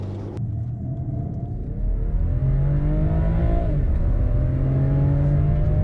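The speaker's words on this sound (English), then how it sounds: "let's find out and do the 30 to 70 sprint" BMW X3 M40i SUV with the B58 engine pulling hard from 30 to 70, a loud steady engine roar rising in pitch through the revs with a brief shift near the middle, heard from inside the cabin with no talk.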